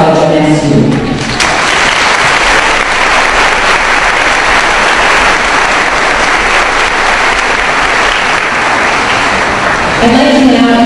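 An audience at a Great Falls College MSU commencement ceremony breaks into loud, sustained applause that fills the hall for about nine seconds before fading, with a speaker's voice heard briefly at the start and end.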